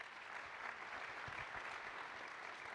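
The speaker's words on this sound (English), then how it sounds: "Give Michael a round of applause." An audience applauds steadily, a soft, even wash of many hands clapping at some distance for a few seconds.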